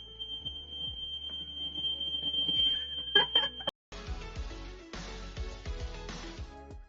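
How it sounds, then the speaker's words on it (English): A shrill, high-pitched smoke alarm tone sounds continuously, then cuts out as louder clattering sounds take over. "my smoke alarm's gonna go off. Oh, there it goes."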